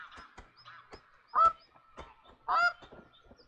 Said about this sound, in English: this is my first time with the geese